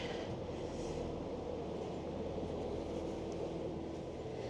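An Irish Rail passenger train running on the rails toward Dublin, a steady low rumble of wheels and carriage heard from inside, constant and even throughout.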